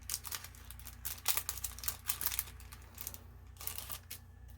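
A bag of Making Memories paper shreds is handled close by, giving crinkly, rustling bursts of plastic and paper that come and go unevenly, with short quiet gaps between.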